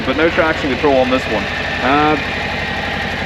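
2024 Harley-Davidson Low Rider ST motorcycle idling with a close, steady low pulsing thump, someone talking over it for the first two seconds before the engine carries on alone.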